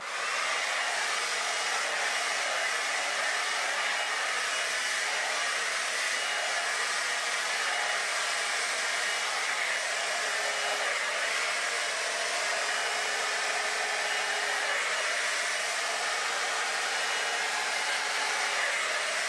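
A Babyliss Hydro Fusion 4-in-1 hot air brush drying hair blows with a loud, steady whooshing hum, close and unbroken for the whole stretch, with no talking.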